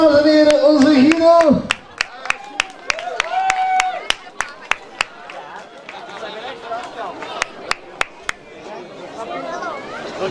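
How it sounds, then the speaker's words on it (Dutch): Applause breaks out for the carnival prince Guido at his announcement ceremony, scattered sharp claps and a crowd cheering under a host's voice. "Een applaus, dames en heren, onze Guido."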